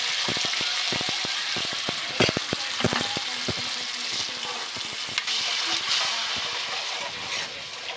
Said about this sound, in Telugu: ఇదిగోండి, ఇప్పుడు చేపల పులుసు బాగా మరుగుతుంది కదా